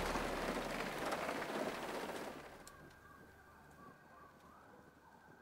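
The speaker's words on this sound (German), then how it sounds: "Im Moment regnet sehr stark" Heavy rain in the video game Grounded, a steady broadband hiss that is fairly loud at first and then thins to a quieter patter, with no talking.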